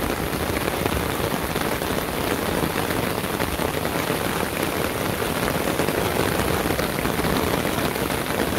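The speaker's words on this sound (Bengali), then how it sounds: "তো এত সুন্দর বৃষ্টি হয়েছে" Steady, dense rain falls on a village, a continuous close hiss of drops on surfaces with no pauses or voices.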